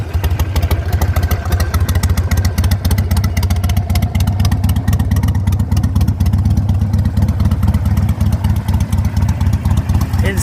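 A 2004 Harley-Davidson Sportster 883 motorcycle engine runs steadily at close range, a loud deep throbbing idle with dense rapid firing pulses and mechanical clatter, holding an even level throughout with no talk.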